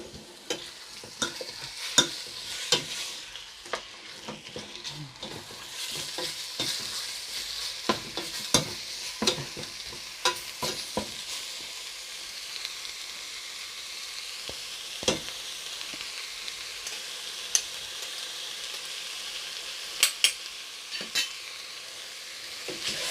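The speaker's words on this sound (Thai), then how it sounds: "รวนพอหมูขาวๆนะคะ เขาจะ ขึ้นสุกขาวๆแล้วมันจะมีกลิ่นหอม คั่วๆนิดนึงนะคะ" Pork stir-frying in a hot pan for a Thai jungle curry, with a steady close sizzle and frequent scraping and clinking spatula strokes against the pan.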